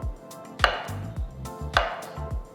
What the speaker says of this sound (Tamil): நான் ஃபஸ்ட்டு 2 ஓரத்தையும் கட் பண்ண போகிறேன்.